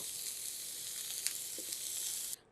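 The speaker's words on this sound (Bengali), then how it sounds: "কপি আর আলুটাকে আমি ৩-৪ মিনিট ভেজে নিলাম, আর এটা এখন নামিয়ে নিব।" Cauliflower and potato pieces fry in hot oil in a pan, giving a steady bright sizzle that carries on evenly, close by and alone, before cutting off abruptly near the end.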